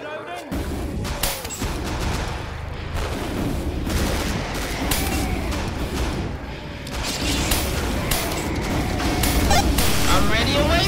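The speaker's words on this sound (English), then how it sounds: "Can't you see I'm reloading?" Dense video game combat from Killing Floor on the Akihabara map: continuous gunfire, explosive booms and mechanical weapon-reloading clicks crowd together, loud and busy throughout, with in-game voices mixed in.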